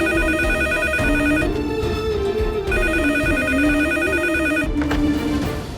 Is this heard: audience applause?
no